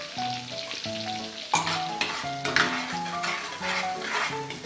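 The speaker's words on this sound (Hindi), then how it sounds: "तो मिर्ची को कम से कम 1 मिनट तक अच्छे से भून लेते हैं।" Chillies with garlic paste sizzle and fry in a pan, a loud steady crackle with stirring scrapes and clinks of a utensil, while tonal music plays underneath.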